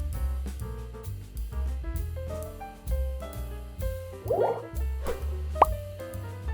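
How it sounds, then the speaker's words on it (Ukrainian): Water drips in a dark bathroom as a few distinct, hollow plops spaced irregularly over a rhythmic musical backing, with one sharper drop near the end. "піти у ванну вимкнути світло і послухати воду, що капає."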